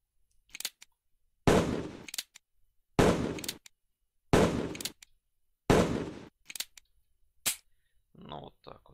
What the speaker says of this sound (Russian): Взводим. Выстрел.